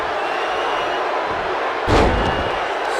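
A wrestling slam in the WWE 2K19 video game lands as a single heavy thud near the middle, over constant loud crowd noise in the arena.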